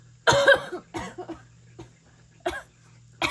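Several close coughs in a row, one loud hacking burst followed by smaller coughs and a throat-clearing sound, with quiet between.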